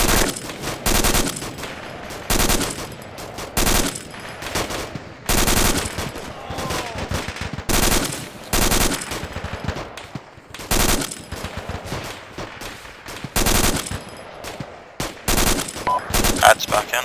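Sustained bursts of machine gun fire from the video game Arma 2 crackle loud and close in rapid repeated volleys, with brief gaps between strings of shots and faint radio-style voices under the gunfire.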